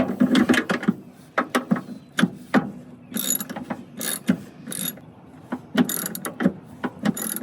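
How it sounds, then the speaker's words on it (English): A hand ratchet clicks in quick bursts while driving long seat bolts into a 1968 Ford Mustang during a seat install, sharp close-up ratcheting strokes separated by short pauses. "The longer these are, the bolts are, the longer it takes to screw in"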